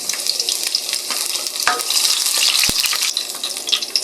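Garlic sautéing in hot oil for chicken adobo, a bright steady sizzle with a few sharp stirring clicks and scrapes of the utensil against the pan.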